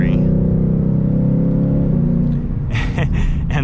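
A 2022 Ford Mustang GT Premium coupe with a 10-speed transmission accelerates with a loud, steady low engine rumble from inside the cabin, with someone talking over it near the end.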